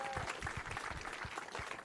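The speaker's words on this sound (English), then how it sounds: "Can I hear everyone clap if you live in the Bay Area?" Audience at a Bay Area short films panel at a film festival claps steadily, a dense, even patter of many hands close to the stage throughout, with no one speaking over it.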